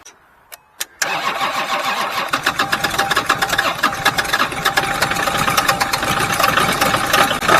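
An old Kubota engine, boosted by a LOKITHOR JA3000 lithium jump starter, gives a couple of sharp clicks, then cranks, catches and settles into a loud, close, knocking diesel idle.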